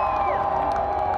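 Concert crowd cheering and shouting, a dense continuous roar that holds steady throughout.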